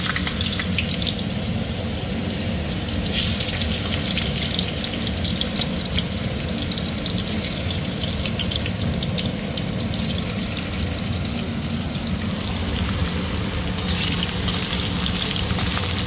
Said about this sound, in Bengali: আগে আলুগুলো ভেজে নেব